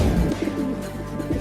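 Cartoon pigeons coo in short, low, throaty bursts, several soft calls in quick succession, close and clear with no talking over them.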